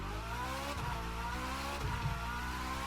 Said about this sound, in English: I have never drifted with this car